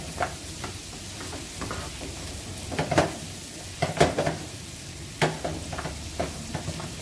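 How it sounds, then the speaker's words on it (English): Vegan food sizzles in a frying pan while a utensil stirs it, with irregular scraping clicks against the pan over a steady hiss, close and without talk. "We just stir it up."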